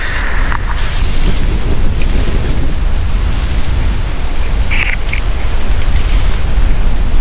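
Strong, cold wind gusting on Mount Brinchang, roaring steadily into the microphone as broadband buffeting, with a few brief faint higher rustles and no talking.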